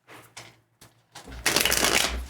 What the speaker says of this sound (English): Let me shuffle one more time.